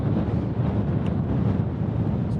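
Steady, loud wind on the Skye Trail buffets the microphone with a constant low roar and rumble, no pauses, and no voices.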